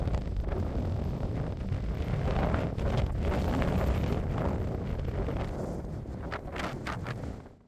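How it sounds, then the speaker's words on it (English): Strong wind buffets the microphone beside a lake in Waterton Lakes National Park, a continuous low roaring rumble that swells and eases for several seconds before dying away. "It was time to escape the wind"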